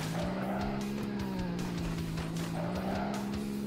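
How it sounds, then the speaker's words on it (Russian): Police car from Earn to Die 2 revving and accelerating in the game, a steady loud engine drone with a rising and falling pitch and some tire squeal, with no voices. "Полицейский автомобильчик."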